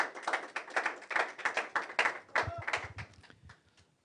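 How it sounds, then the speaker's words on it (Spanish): Audience applause welcoming an auxiliary bishop at a church family talk: a burst of hand clapping that builds, holds for a few seconds, then thins out and fades to scattered claps. "vamos a recibir a nuestro obispo auxiliar, José Rafael Palma Capetillo, con un fuerte aplauso"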